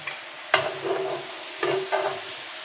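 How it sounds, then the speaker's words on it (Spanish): Onion and bell pepper frying in hot oil in a pot, a steady sizzle broken by two or three louder stirring scrapes and bursts of crackle, close and moderately loud with no talking. "ustedes vieron que bajó el ruido del aceite al fritar"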